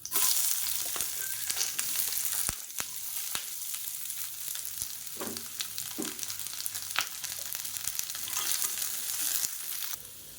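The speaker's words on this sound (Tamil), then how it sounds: "மீடியம் சைஸாக ஒரு பெரிய வெங்காயம் நீளமாக நறுக்கினதை சேர்த்துக்கலாம்" Sliced onion fries in a pan for tomato chutney, a steady close sizzle running throughout with occasional scrapes and clinks of stirring, no voices.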